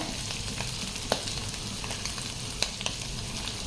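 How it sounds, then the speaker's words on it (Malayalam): Fish fries with curry leaves and crushed pepper in a pan, giving a dense, even sizzle close up, with a few faint clicks of stirring and no voices. "നമുക്ക് ഇതാ ഇച്ചിരി കരിവേപ്പിലയും കൊടുത്തു കൊടുക്കാം"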